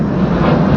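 A propeller airplane drones overhead in a video game, a loud, steady engine rumble filling the brief moment without pause.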